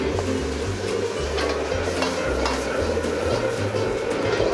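A spoon steadily stirs and scrapes through a stir-fry sauce thickened with starch in a hot pan for a Korean-Chinese style meat rice bowl, with a continuous close sizzle under the strokes and no talking.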